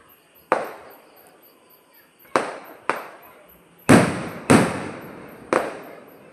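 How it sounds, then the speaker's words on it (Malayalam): Six sharp firework bangs go off at irregular intervals, each a loud crack followed by a crackling decay, with the later blasts louder and closer together. "ഇടിവെട്ടിൽ വെടിക്കിട്ട്."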